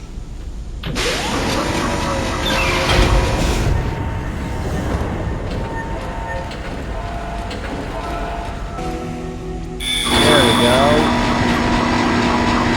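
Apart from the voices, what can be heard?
tram moving in the video game Dead Space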